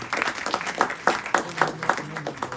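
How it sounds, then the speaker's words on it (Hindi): Audience applause at a Hindi kavi sammelan poetry gathering, a steady patter of many hands clapping with sharper individual claps standing out, fairly close and continuous for a couple of seconds. "जितनी तालियां आप बजा रहे हैं"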